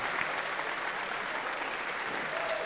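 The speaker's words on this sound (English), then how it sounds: "Give them a round of applause, everybody." A church congregation claps for improv performers, with even, sustained applause at moderate volume filling the whole stretch and no talking over it.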